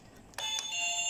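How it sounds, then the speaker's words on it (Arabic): A doorbell rings indoors in a home: a single bright electronic chime that comes in suddenly and rings on, sustained and moderately loud over quiet room tone, with no talking. "ده الجرس بيرن تاني"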